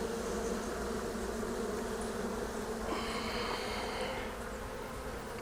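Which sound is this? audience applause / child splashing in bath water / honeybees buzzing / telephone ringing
honeybees buzzing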